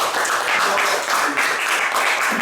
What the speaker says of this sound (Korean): 그 노력을 계속 경주해 나가실 송 대사님께 다시 한번 큰 박수 부탁드립니다